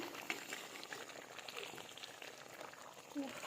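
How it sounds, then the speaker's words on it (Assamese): Fish curry with sesame bubbling in a pot as fish pieces are added, a soft continuous boiling burble with small pops, faint and close. "এতিয়া মই মাছ কেইপিচ দি দিলোঁ আৰু অলপ উতলিবলৈ দিম"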